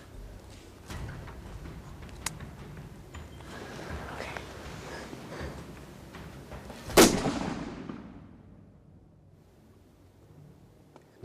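A single sharp rifle shot rings out during a deer hunt for Coues deer near El Paso, loud and close, with a lingering rumble trailing off into quiet outdoor ambience after a stretch of soft rustling.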